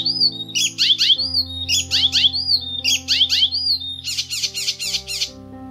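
An icterine warbler sings loud, rapid bursts of varied chirps and squeaky whistles in repeated phrases over a steady low musical drone.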